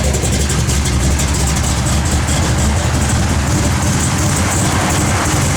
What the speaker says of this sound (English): Blower motor does work